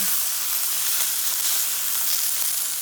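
A large ribeye steak sizzles in a hot pan, a steady, close, even hiss of frying fat that runs unbroken and fairly loud with no voices over it.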